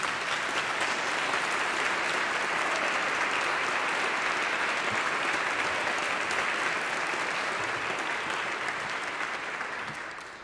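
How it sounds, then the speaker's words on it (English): A congregation applauds in an Episcopal church during a Sunday Eucharist and confirmation service, dense sustained clapping from a large crowd that holds evenly and begins to fade at the very end. "I heard a start of an applause."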